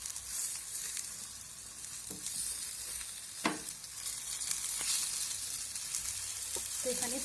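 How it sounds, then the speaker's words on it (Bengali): Spice-coated eggplant slices, fried in a little oil, sizzle steadily in a pan, with a few sharp clicks and scrapes as the pieces are turned over. "এখন এই বেগুনগুলোকে অপর পাশটা ভাজার জন্য উল্টে দেব"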